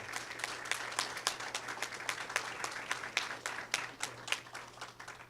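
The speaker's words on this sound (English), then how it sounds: "Let's give an applause for the fact that what we want and what we have dreamed about has come to pass." Applause from a modest crowd at a public meeting on a park master plan, a steady patter of many hands clapping throughout, moderately loud and sustained.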